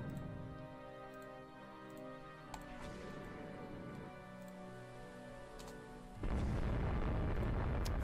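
Naval combat in Rule the Waves 2, with faint ticking clicks over a low rumble, a couple of small pops, then a sudden loud, sustained blast of explosions near the end.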